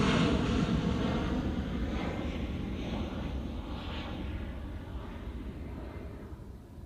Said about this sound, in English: That's not a SAS, it's an EasyJet.